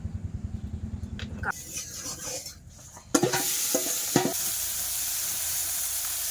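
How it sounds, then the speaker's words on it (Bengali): Small pond-caught fish fry in a little oil in a scorched kadai: a rhythmic low knocking opens, then a loud, steady close-up sizzle takes over, broken by a few sharp clatters. "আর অল্প তেলে কিন্তু মাছটা ভাজবো"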